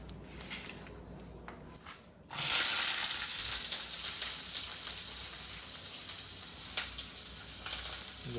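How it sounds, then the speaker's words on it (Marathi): Chopped onion dropped into hot oil in a home kitchen: a quiet moment, then a sudden loud sizzle that settles into steady, crackling frying with occasional pops, close by and without talk. "आपला कांदा आता भाजतोय"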